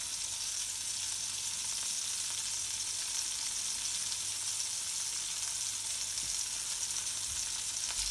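Colocasia leaf mixture for a traditional Maharashtrian aloo bhaji fries in a pan with a steady, even sizzle held for the whole stretch, fairly loud and close, with no talking.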